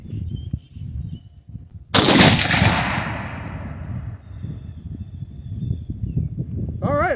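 A single loud, sharp gunshot from a BCA bolt-action rifle upper firing a 69-grain RMR HPBT load with BLC2 powder, followed by a long, rolling outdoor echo that fades slowly.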